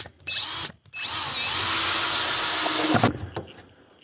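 A power drill drives screws into wood outdoors, with a short first burst, a pause, then a longer whining run that bogs slightly as the screw seats before stopping, followed by faint handling clatter.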